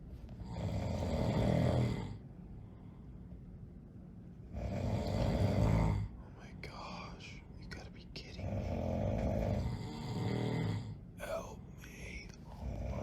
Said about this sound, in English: My parents and my brother snored all night long.